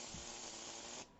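Airbrush spraying white paint in one short, steady hiss of air that stops abruptly after about a second, faint and close, with no voices.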